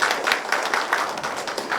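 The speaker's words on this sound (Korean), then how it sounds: "다시 한번 큰 박수로 맞이해주시기 바랍니다." An audience at a Korean policy forum on cultural heritage preservation gives a short burst of steady applause, dense and close, with no talking over it.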